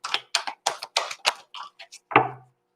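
Tarot cards are shuffled in a quick run of about eight crisp, close riffling snaps, followed by a final slap as the deck is squared.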